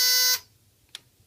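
A vintage Potter ZIP security panel sounds a loud, harsh alarm buzz that cuts off abruptly after a fraction of a second. A single faint click follows in near silence.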